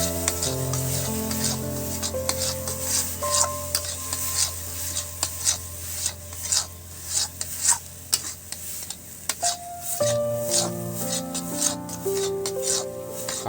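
Dal kachori filling being stirred in a pan, repeated scraping strokes over a soft sizzle, close and steady with brief clinks of the spoon.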